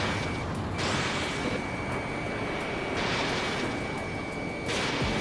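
Fighter jet guns fire in Ace Combat 7 over a steady engine roar, with two long, harsh bursts of rapid fire, the second one longer.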